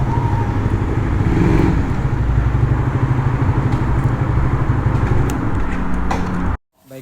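A motorcycle is ridden in to park outside a showroom, its engine running as a steady rumble close by, then cutting off sharply near the end, followed by a short thump.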